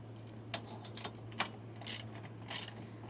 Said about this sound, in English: we're going to grab our 5/8 wrench and an 11/16 socket and tighten these on